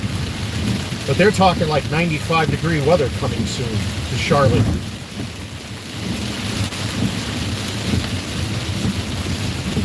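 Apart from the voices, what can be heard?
heavy rain and thunder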